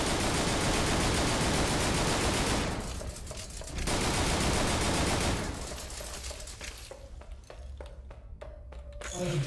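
Sustained gunfire aimed at the player in the video game AMC Squad, with dense rapid bursts that are loud and close, a short pause, then more shooting that thins out into separate sharp shots.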